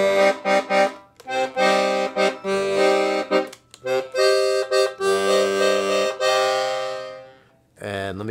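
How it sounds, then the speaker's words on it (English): Black Hohner Atlantic IV 120-bass accordion with three bass registers, heard as a series of close, loud sustained bass and chord notes, some short and pulsed, others held, with breaks between phrases. "It has 120 basses with three different registers that sound like this."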